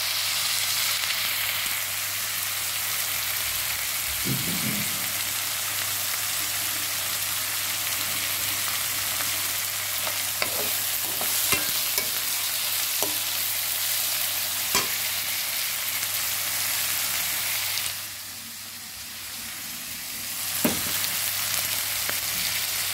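Steady hiss of wheat rava and moong dal frying in a pan for khichdi, continuous and close, with a few soft scraping clicks of stirring and a brief dip in the sizzle near the end.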